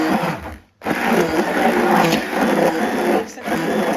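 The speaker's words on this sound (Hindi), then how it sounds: "इसीलिए मैं मिक्सी में नहीं चलाती हूँ, इसको ग्राइंडर से मैश करती हूँ।" An electric wet grinder coarsely mashes overnight-soaked lentils for Paush bade batter, whirring loudly and steadily with a brief cutoff early on before running on.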